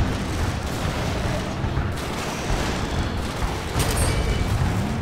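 Sustained unit gunfire and booming blasts from a Command and Conquer 4 real-time strategy battle, a dense continuous barrage with no talk over it.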